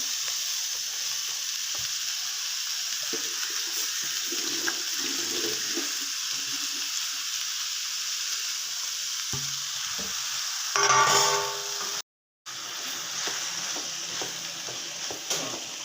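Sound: chopped green beans frying and being stirred in pan

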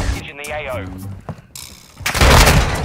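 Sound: cruise missile strike explosion in video game Modern Warfare 2

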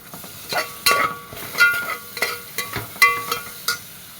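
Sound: green chilies and ginger-garlic paste sizzling in a pan

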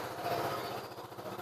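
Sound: motorcycle engine started and running

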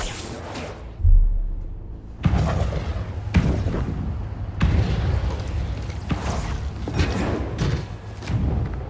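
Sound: fireworks exploding in a video game

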